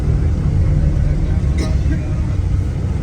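A vehicle pulling away in Madina, a steady, loud engine and road rumble that fills the whole stretch without letting up.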